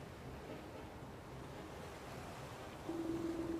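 Steady rushing water pours from a small homemade waterfall, a continuous close wash of splashing noise that swells louder near the end.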